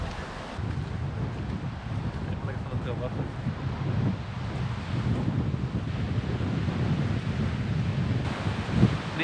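Sea waves wash in at the shore where people stand in the surf, a constant rushing hiss of water under heavy wind buffeting on the microphone, with faint voices blending into the roar throughout.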